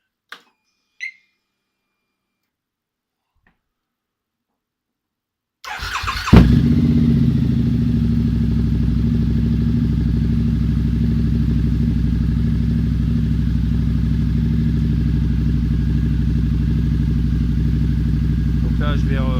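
Harley-Davidson V-Rod Muscle motorcycle engine, checked after water pump work, starts after a few seconds of near silence with a couple of faint clicks, then idles loud and steady with a continuous throbbing rumble close by.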